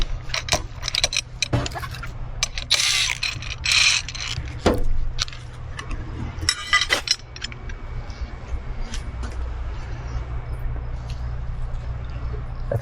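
Bolts come out of a GM 10L1000 transmission on a workbench, with metallic clinks, ratchet and tool clatter, and scattered sharp knocks at irregular intervals over a low steady background hum, close and moderately loud.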